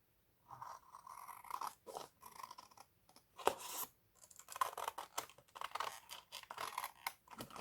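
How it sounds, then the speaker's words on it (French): Scissors cutting around a traced outline on paper for a scrapbooking box, a series of short crisp snips and paper rustles in irregular bursts, close and quiet with no talk. "on va venir découper tout autour"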